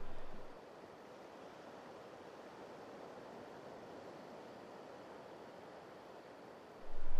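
Sea surf at Guhagar beach rolls in as a steady, even wash of broadband noise, with a slight swell in loudness at the start and end and no voices.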